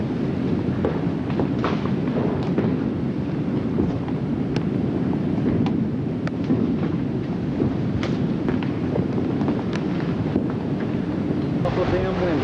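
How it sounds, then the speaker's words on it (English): Strong tornado wind buffets the microphone in a steady, loud roar with low rumbling gusts, while people talk throughout. "Awful damn windy."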